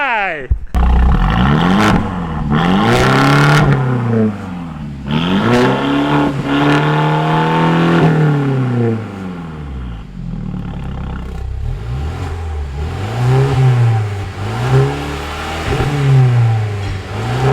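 A Mercedes-Benz W212 with a Valvetronic exhaust roars as the engine revs up and down repeatedly while driving, loud and close, with gear changes between the surges.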